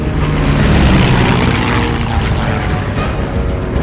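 A swarm of about fifty Japanese propeller warplanes flying in, a loud steady drone of aircraft engines with rolling, thick roar throughout, no voices.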